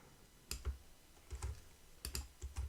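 Close, quiet computer keyboard typing while pasting with Ctrl V, in scattered clusters of crisp key clicks separated by brief pauses.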